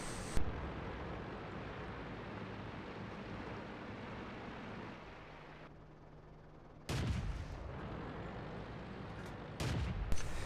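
Cannon fire from a Pz.38 nA tank in a video game on the Winterberg map: a few sharp, loud shots spaced across a steady rumbling engine background, with the final two blasts close together near the end.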